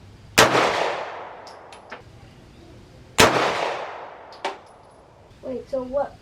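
Two loud rifle shots ring out at an outdoor shooting range about three seconds apart, each a sharp crack trailing into a long echoing decay, with brief talk near the end.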